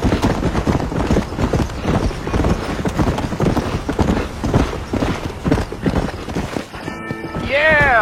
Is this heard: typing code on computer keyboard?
no